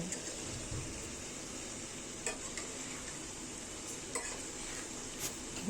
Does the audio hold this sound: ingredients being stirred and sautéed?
yes